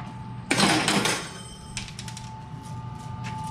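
A Milford 256 riveting machine sets a rivet with one sharp, loud mechanical burst and rattle, then lighter clicks and a steady electrical hum under it.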